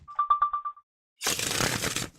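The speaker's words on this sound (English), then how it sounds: "One more shuffle." Tarot cards being shuffled, a short burst of dense riffling close by after a few quick beeping tones, with no talk over it.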